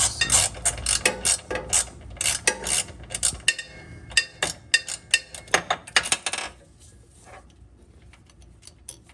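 A hand ratchet clicks in rapid bursts of sharp metallic ticks while loosening a sway bar bracket screw on a Toyota Corolla, close and loud, then falls quiet near the end.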